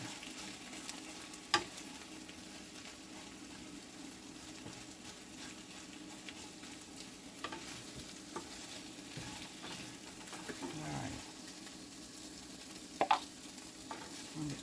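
Eggs fry softly in a pan while being stirred and pushed around, giving a faint steady sizzle with a few light scrapes and taps of the utensil, no talking.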